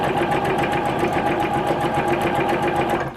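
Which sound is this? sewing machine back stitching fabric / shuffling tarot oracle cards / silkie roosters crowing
sewing machine back stitching fabric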